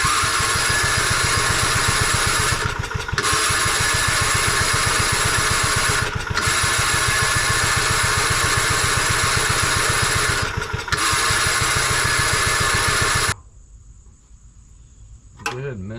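A rare old tractor engine, running again after 26 years: a loud, steady, thumping idle with a regular low beat that holds for about thirteen seconds before abruptly cutting out into near silence.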